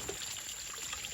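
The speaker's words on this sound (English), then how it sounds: "The water's running down that backside." Water trickling and pouring down the back side of a koi pond extension, a steady soft rushing stream heard close and alone.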